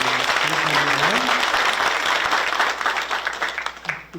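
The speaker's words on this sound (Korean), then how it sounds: "다시 한번 감사의 박수를" A church seminar audience claps in thanks, producing dense, steady applause for about four seconds before it thins out and fades. A voice speaks briefly over the clapping at the start.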